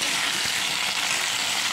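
Cut pointed gourd (potol) pieces sizzle in a hot frying pan with a steady, loud frying hiss that fills the moment without a break.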